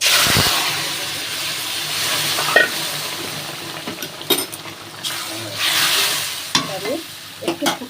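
Whole cumin tempering sizzles in oil in a pan for a taro and prawn curry, a steady hiss broken by scattered clinks and scrapes of a spoon stirring.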